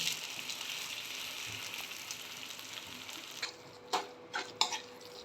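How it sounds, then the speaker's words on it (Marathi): Grated raw mango sautés in ghee with a soft, steady, close frying hiss, then several light clinks of a utensil against the pan near the end. "आता हा सगळा किस मी ह्या तुपावर घालते आहे आणि तो परतून घेणार आहे"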